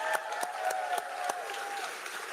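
Audience applause at a political campaign event in Grand Rapids, Michigan: a steady wash of clapping from a crowd, moderately distant, with a few sharper individual claps and faint voices underneath.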